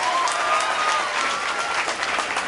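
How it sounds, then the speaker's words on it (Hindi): An audience at a government block development office event in Murliganj breaks into loud, sustained applause, dense clapping filling the whole stretch with a faint tonal hum behind it. "एक बार जोरदार ताली बजाइए कि हम लोग विनोद साहब के जैसा बनेंगे।"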